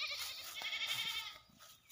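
A tethered goat in a field lets out a single wavering bleat, fairly close, over a soft outdoor background hiss.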